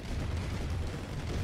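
Power plant explosion in the C&C Red Alert video game, a short, dense low boom rumbling continuously for about a second and a half, with no voices.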